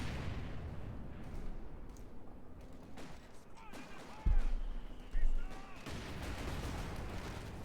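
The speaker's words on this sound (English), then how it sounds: "mortar firing down there." Distant battlefield fire in Company of Heroes 2, including mortar rounds, scattered thuds and pops over a low rumble, with two sharper, louder impacts standing out.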